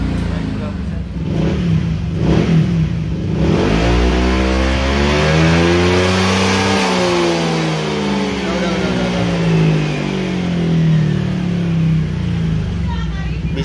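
Honda PCX 160 scooter fitted with a racing ECU, its engine revving hard and swelling in pitch before easing back down, loud and close over a steady idle, with no talking.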